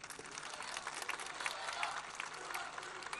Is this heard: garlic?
no